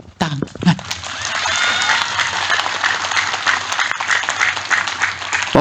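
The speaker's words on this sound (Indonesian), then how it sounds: "Tepuk tangan." A crowd at an Islamic religious lecture breaks into applause mixed with cheers and a few shouts, starting with scattered loud claps and swelling into sustained, lively clapping that fills the room.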